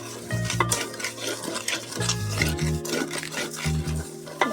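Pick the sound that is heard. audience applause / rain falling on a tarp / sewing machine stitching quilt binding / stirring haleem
stirring haleem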